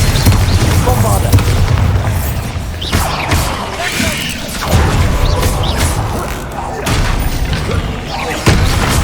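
Bombarda explosion spells cast in Hogwarts Legacy, heavy booming blasts with thudding impacts and crashing debris recurring every few seconds over a loud rumbling game backdrop.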